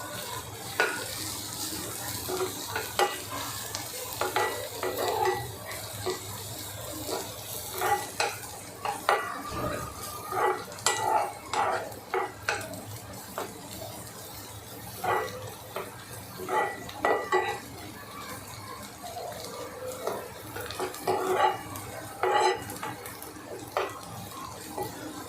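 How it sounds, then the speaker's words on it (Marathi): Onion with ginger garlic paste frying in a pan for Kashmiri-style dum aloo, soft sizzling under repeated scraping and stirring of a spoon against the pan. "त्यामध्ये आलं लसूण पेस्ट टाकून घेऊया. ते पण छान असं भाजून घ्यायचं."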